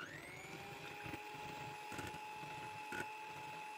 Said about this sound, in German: Dafür nehme ich 300 ml Schlagsahne und gebe sie so in einen hohen Rührbecher hinein und schlage sie mit dem Handmixer so leicht schäumig.